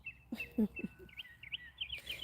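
Birds sing in a short run of bright, high chirps and tweets, fairly close and clear, with a few soft low thumps beneath.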